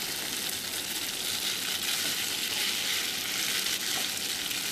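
Hakka noodles with sauce are stirred in a hot pan, giving a continuous close hiss and sizzle with light stirring texture and no voices.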